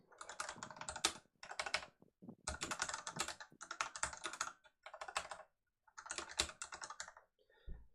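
Rapid computer keyboard typing in bursts of several seconds separated by short pauses, close and crisp clicking keys with no voices.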